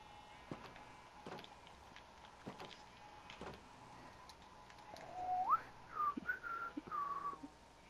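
A person whistles a short tune in a room, the clear wavering notes entering after a stretch of quiet background with a few soft knocks.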